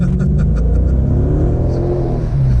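A Dodge Charger R/T with a 5.7 Hemi V8 revs in race mode, a loud, close, deep rumble that climbs steadily in pitch as it accelerates, with no talking over it.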